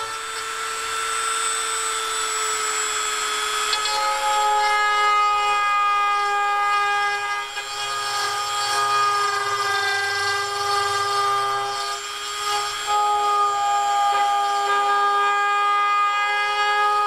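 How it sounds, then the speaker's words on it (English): A Dremel rotary tool grinds the nose area of a taxidermy form, carving lip slots and nostrils, giving a loud, steady high-pitched whine that holds for the whole stretch with slight pitch shifts as the load changes. "I'm going to turn my Dremel tool sideways"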